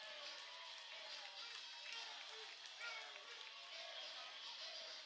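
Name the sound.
baseball crowd cheering after a home run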